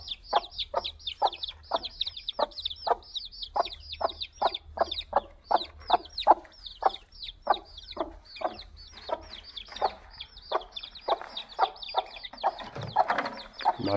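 A hen clucks in a steady series of short, sharp calls, close by, with chick-like peeps and other fowl faintly in the background.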